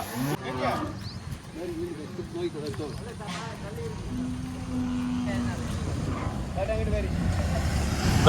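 A dairy cow that has recently calved, kept with her calf among HF and Jersey milking cows, moos repeatedly in drawn-out calls close by while people talk in the background.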